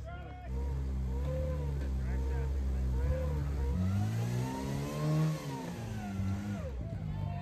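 A rock crawler's engine revs hard on an outdoor course while its tires spin on rock, the rising and falling engine note sustained throughout with distant crowd and voices underneath.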